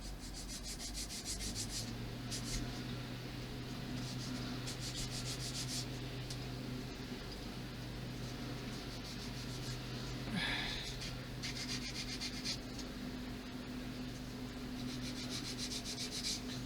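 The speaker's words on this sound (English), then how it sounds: "I spend more of my time sanding" Steady rhythmic rubbing of sandpaper by hand on a USS Enterprise CV-6 ship model, close and continuous, with short strokes repeating over a low background hum.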